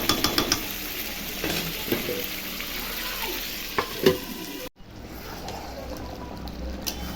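Chicken pieces frying in a pan for Bengali chicken kosha give a steady, soft sizzle, with a few spoon scrapes and clicks of stirring near the start, then a brief pause before the frying resumes.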